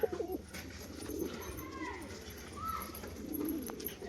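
Soft, low cooing from a domestic pigeon, a dark green hen kept among a breeding pair of tumbler pigeons, murmurs steadily under faint background noise, with a couple of brief higher calls partway through.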